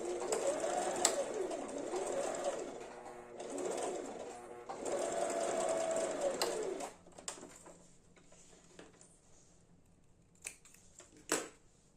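A domestic sewing machine stitches fabric for a toiletry bag in three close bursts of whirring with short pauses between them. Scattered clicks follow, and a pigeon coos nearby in the background.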